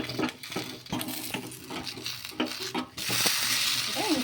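A rice dosa made from leftover rice toasts on an oiled pan with a soft sizzle, while a spatula scrapes and taps during the flip, close and without talk.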